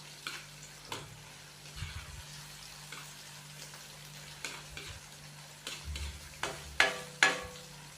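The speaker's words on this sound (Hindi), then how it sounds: "हल्का सा इसको फ्राई करेंगे ताकि इसका कच्चापन ख़त्म हो जाए।" Ginger garlic paste fries in a pan for beef and tinda curry, giving a soft steady sizzle with scattered stirring scrapes and knocks that grow louder and sharper near the end.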